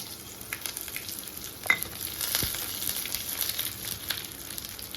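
Mustard seeds and dry red chilies crackle and pop in hot oil, a steady close sizzle scattered with small sharp snaps and one louder crack, no voices.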